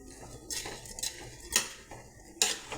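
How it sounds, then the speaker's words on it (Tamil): A utensil stirs Maggi noodles in a pan, giving several close scraping clinks and swishes at an uneven pace with a faint sizzle underneath. "மேகி ஆட் பண்ணிவிட்டு அதை நல்லா கிளறி விட்டுக்கலாம்"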